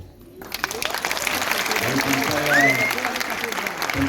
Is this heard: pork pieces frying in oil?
no